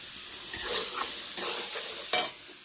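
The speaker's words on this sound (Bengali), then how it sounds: "এখানে বুট দিয়ে দিয়েছি বুটটা ভাজাভাজি করে নিয়ে মশলাটা দিয়ে তারপর এটা দেবো" Chickpeas fry in a pan while being stirred, giving a steady soft sizzle broken by several scraping stirs and a sharper clatter near the end.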